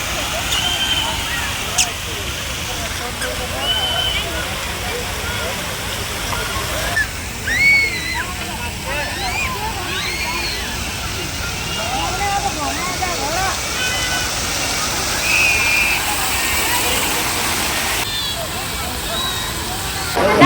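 Artificial garden waterfalls at NTR Gardens in Hyderabad give a steady rushing splash throughout, with scattered voices and crowd chatter layered on top of the water.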